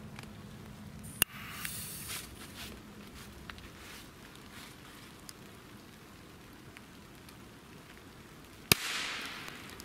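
Small pyrotechnic firecrackers set off outdoors in wet conditions go off as two sharp, loud cracks several seconds apart, with steady rain-like hiss and spray between the bangs and no voices.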